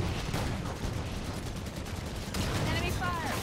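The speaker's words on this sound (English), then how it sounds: "Enemy fire!" Gunfire in Halo 5 multiplayer: dense, continuous bursts of automatic weapon fire with explosive booms filling the whole clip, loud and busy, with faint in-game sounds layered over the top.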